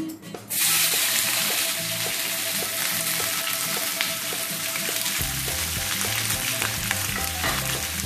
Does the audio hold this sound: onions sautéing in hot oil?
yes